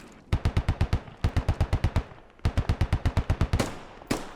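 Rapid automatic gunfire in the military shooter game Squad, fired in three sustained bursts of about eight evenly spaced shots each, loud and close, followed by a couple of single sharp shots near the end.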